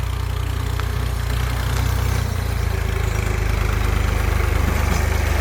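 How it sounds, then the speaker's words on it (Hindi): A tractor hauling a load of wheat on a village road in Pakistan runs close by, its engine a loud, steady, throbbing rumble that continues without a break. "ये ट्रैक्टर आ रहा है घास लेकर"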